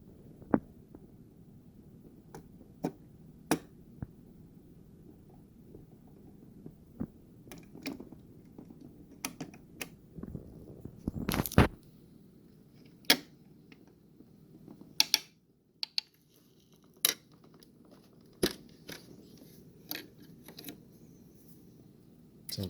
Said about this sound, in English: Just open the lever. I'm going to place it in the socket.